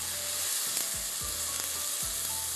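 Steady close sizzle of a biryani mixture frying in a pan after yogurt goes in, with a few soft scrapes and knocks of stirring cutting through the continuous hiss.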